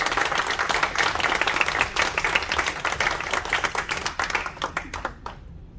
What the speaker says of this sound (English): Everyone give a great round of applause for my good friend,